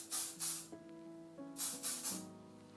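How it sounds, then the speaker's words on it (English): Hairspray misted onto short curled hair in several quick hissing bursts, close and fairly soft, over light background music. "And now hairspray."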